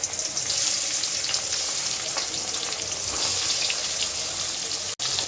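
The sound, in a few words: fish frying in a pan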